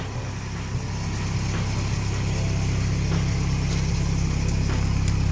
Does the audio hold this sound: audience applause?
no